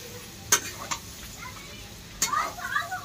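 Chicken liver fries in oil with turmeric, a soft sizzle under a few sharp stirring clicks and some faint background voices.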